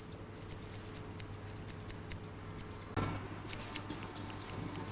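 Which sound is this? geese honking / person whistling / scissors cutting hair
scissors cutting hair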